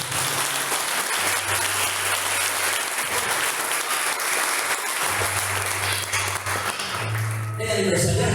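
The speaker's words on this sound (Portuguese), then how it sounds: "Você pode aplaudir o Senhor?" A church congregation at a missionary service applauds together, a broad continuous clapping roar lasting several seconds, with a low tonal hum underneath and a slight swell near the end.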